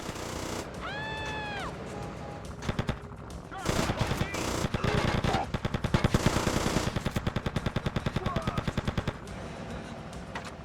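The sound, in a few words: gunfire in GTA Vice City Stories video game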